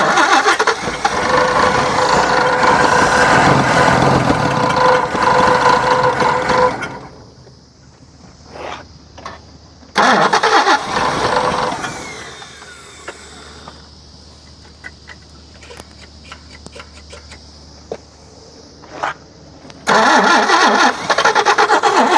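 A G60 Nissan Patrol engine with a worn carburettor cranks and fires, running rough and loud, then cuts out, restarts and settles into a steady idle, with another loud revving burst near the end.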